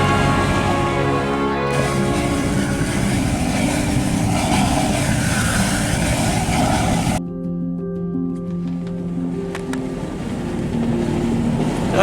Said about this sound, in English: The Volkswagen Rabbit engine is a very good and reliable engine.